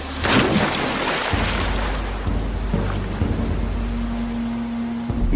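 A roaring waterfall in Peru, a dense, steady rush of crashing water that fills the space with loud continuous noise, a few heavier splashes and low thuds breaking through, with no voices.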